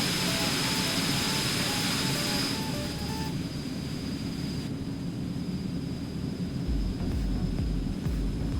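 Eclipse 550 jet engine noise in the X-Plane 11 flight simulator, a steady loud broadband roar with a thin high whine running through it and a deeper rumble toward the end.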